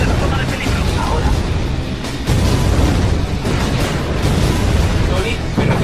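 Dense, continuous rumbling blasts and booms from the Iron Man 2 fight scene fill the clip, loud and close, with a heavy low-end roar throughout.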